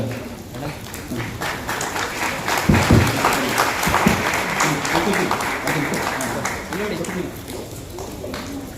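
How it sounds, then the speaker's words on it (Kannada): An audience claps steadily at the engagement ceremony of Archbishop Dr. Ignatius Sakri, a dense patter of hands that swells briefly, with voices talking over it. "ನಾವೆಲ್ಲ ಚಪ್ಪಾಳೆ ತಟ್ಟೋಣ"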